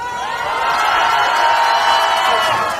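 At a joint street campaign rally in Mapo-gu for candidate Lee Ji-eun with Lee Jae-myung, a large crowd cheers and shouts in a steady, loud roar that swells slightly and holds for a few seconds.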